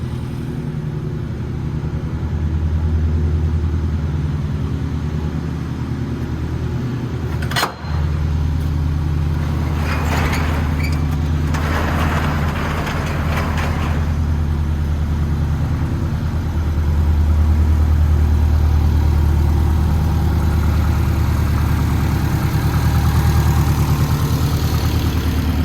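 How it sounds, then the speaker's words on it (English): A 2008 Subaru STI idles steadily in a garage, a low continuous rumble with a short sharp transient and a brief rise in engine revs partway through, the idle settling slightly louder near the end. "Try to give you an exhaust rev."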